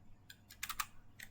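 A few quick keystrokes tap on a computer keyboard, faint and close, in short separate clicks with a small cluster in the middle, typed into a terminal.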